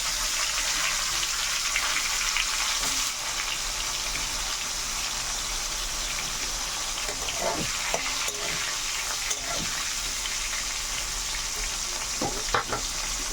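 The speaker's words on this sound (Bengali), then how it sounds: "নুন হলুদ মেখে রাখা উচ্ছেগুলো আমি কড়ার মধ্যে ছেড়ে দিলাম।" Bitter gourd pieces coated in salt and turmeric fry in oil in a wok with a loud, steady sizzling hiss, broken by a few soft scrapes and knocks near the end.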